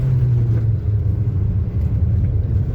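A Mitsubishi Eclipse Cross pulls away hard in snow, its engine a steady loud low rumble that holds throughout, with traction control engaging, close and without talk.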